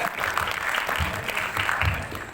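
Audience applause at a South Jakarta election commission talk event, a short steady burst of clapping from a gathered crowd with some voices mixed in.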